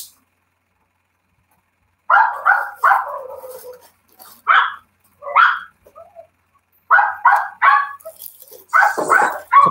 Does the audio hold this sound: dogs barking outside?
yes